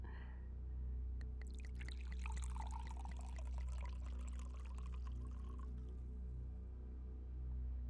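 Liquid pours from a bottle into a glass, a close, gurgling stream of about four seconds over a low steady hum, with soft speech around it.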